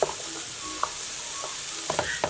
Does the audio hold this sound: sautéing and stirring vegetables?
yes